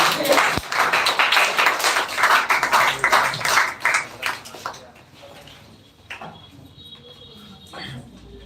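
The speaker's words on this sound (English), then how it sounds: "Please give a huge round of applause to him." Audience applause during a speech competition grand finale, a burst of crowd clapping that runs loud for about five seconds before fading into scattered faint claps and room noise.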